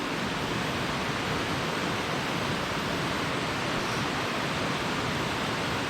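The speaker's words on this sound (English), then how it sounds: "I know y'all can hear that raging river in the background." A raging river rushes beside a campsite on the Tellico River, a steady loud broadband roar of water with no other sounds over it.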